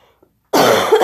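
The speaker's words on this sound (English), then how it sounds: "This chest cold is killing me. I've been coughing for a week." A single harsh cough from someone with a chest cold bursts out loud and close after a near-silent pause, then rasps on to the end.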